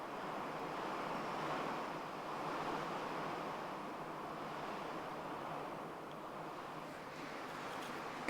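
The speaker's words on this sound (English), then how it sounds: "You can hear that rain coming down outside." Steady rain falling outside, a constant broadband hiss that stays even and fairly faint for the whole stretch, with no talking over it.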